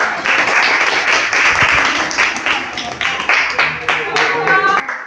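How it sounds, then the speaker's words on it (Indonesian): Classroom audience clapping together after a group presentation, a dense burst of applause that holds steady for several seconds and slowly thins toward the end, with voices mixed in underneath. "kalau tidak ada pertanyaan, bisa tepuk tangan, boleh tepuk tangan"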